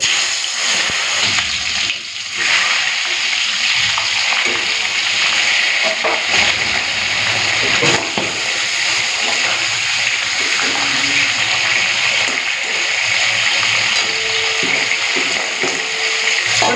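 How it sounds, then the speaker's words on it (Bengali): Loud, crackling sizzle of a katla fish head frying in hot oil, dense spattering and bubbling throughout with sharp pops, up close. "তো তেলটা গরম হয়ে গেছে, এখন মাছের মাথা ভেজে নেবো।"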